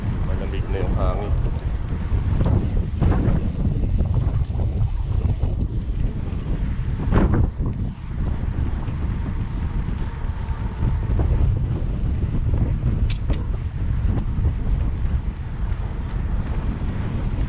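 Steady wind rushes over the microphone during a bike ride through Punggol Park in Singapore, loud and continuous throughout with no pauses.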